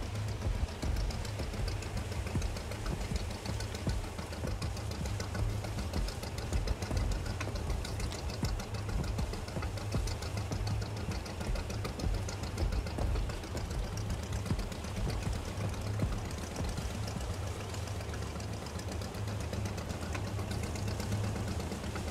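A fishing boat's engine idles in Fishing Barents Sea, a steady low mechanical rumble with a faint knocking pulse that runs unbroken throughout, fairly loud and close with no talking.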